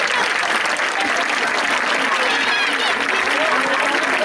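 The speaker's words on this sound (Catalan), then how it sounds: "un aplaudiment per tots vosaltres per tota la feina que heu fet" Dense, sustained applause from a school audience after children's dances, loud and close with no breaks across the whole stretch.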